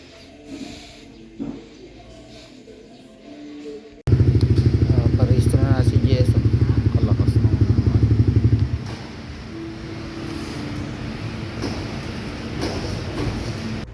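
A motorcycle idles loudly up close during a registration inspection, a steady rapid engine putter for several seconds before dropping to a lower rumble among background noise.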